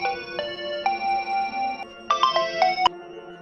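A mobile phone rings for an incoming call with a bright electronic melodic ringtone, a few repeating tonal phrases with a faint hum underneath.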